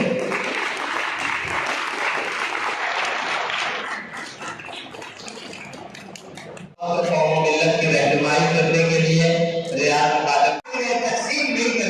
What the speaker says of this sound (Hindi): अगर आप तालियां बजाओगे